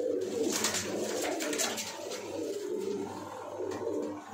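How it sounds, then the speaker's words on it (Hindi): A caught pigeon wearing a leg tag coos repeatedly up close, with low, throaty, rolling calls in a steady rhythm and no talk over them. "ये देखिए पकड़ा हुआ कबूतर है, इसके भी टैग पहन रखा है।"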